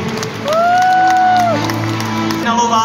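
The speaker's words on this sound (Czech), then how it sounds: "Takže ještě jednou velký potlesk pro dívku s číslem 3, Nikolu Hlávkovou." Audience applause at a beauty pageant for nurses, Miss Sestra Sympatie 2015: a steady wash of clapping and crowd noise under a loud sustained whistle-like tone, with a presenter's voice over it.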